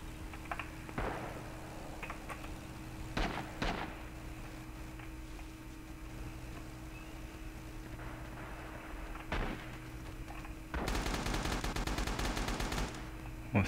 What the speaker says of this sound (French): Ça, c'est une mitrailleuse à qui.